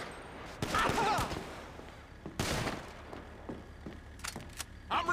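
Gunfire in the video game GTA V during a fight with an Ammu-Nation employee, heard as a cluster of sharp shots near the start, a louder blast midway and a few closing cracks, with muffled game noise and brief voice sounds.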